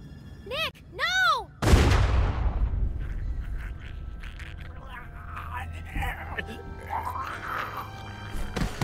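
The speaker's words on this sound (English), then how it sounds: "That shot rang out for miles." A single loud gunshot cracks at close range in The Walking Dead video game, its boom fading into a long rumbling echo, after two rising swooping tones and under quiet low ambience.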